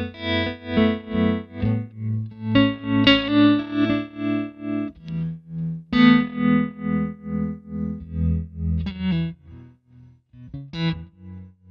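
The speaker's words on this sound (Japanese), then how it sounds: "でトレモロが使いたいときは、まあ、トレモロをオンにしますけど" Clean tone from a Victory V40 Duchess Deluxe head guitar amp with its tremolo switched on, an American-style amp with spring reverb; a steady run of played notes and chords throughout, loud and close, with no talking.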